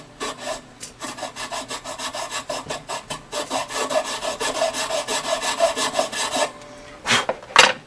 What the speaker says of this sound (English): I'm trying to hold the file at the same angle the peg head here is.